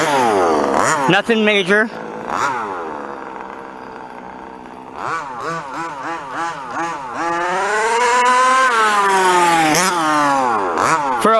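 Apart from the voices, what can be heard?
5th scale RC truggy King Motors 30.5 engine full throttle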